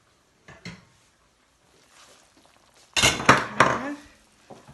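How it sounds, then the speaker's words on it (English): A small pan is handled in a home kitchen by a gas hob: a few scattered clanks and knocks, then a louder cluster of metallic clatters and scrapes, with no talking. "So I'll just go and get my little pan."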